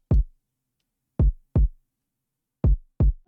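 Boom bap kick drum from a hip-hop beat, five deep, punchy low thumps alone in silence with uneven spacing, loud and close with short decays.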